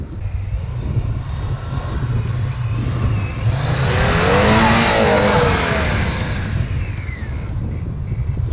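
Audi 100 quattro engine revving hard as the car struggles for grip on a snowy, icy slope, a loud steady roar that swells in the middle with rising and falling pitch.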